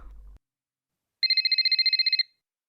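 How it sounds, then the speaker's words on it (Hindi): A telephone rings at home in a single ringing burst of rapid, evenly pulsed trills lasting about a second, loud and alone after a brief low rumble. "मम्मी का फोन बज रहा है"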